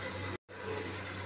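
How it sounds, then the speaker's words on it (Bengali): Water is poured into a fish curry in a cooking pan, making a steady rushing, splashing sound close by with one brief dropout. "জল দিয়ে দিই এবার"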